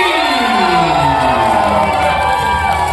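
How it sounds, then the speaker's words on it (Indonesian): Schoolchildren in a crowd cheer and shout loudly at a school sports league match between SDN Sudimara 7 and SD Perguruan Buddhi, a sustained, close roar of young voices with whoops rising over it. "Kasih tepuk tangan yang meriah untuk teman-teman dari SD Perguruan Budi."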